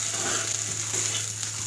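Yardlong beans or onion stalks frying in a pan over low heat, with a steady, close sizzle and soft scraping stir sounds throughout, no voices.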